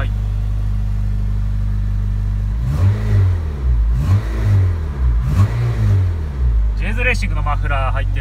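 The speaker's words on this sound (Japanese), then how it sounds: "レーシングのマフラー入ってるんでなかなかいい音しますね。" A Honda Integra Type R DC5 with a J's Racing muffler idles with a deep steady rumble, then revs in several rising bursts up close; someone talks over the engine between revs.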